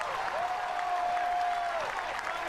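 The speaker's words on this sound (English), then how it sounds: "The Southern Miss crowd is bubbling up right now" Southern Miss home crowd at a college baseball game against Virginia, a broad sustained roar of cheering and clapping filling the whole stretch, with a whistle-like tone riding above for a moment.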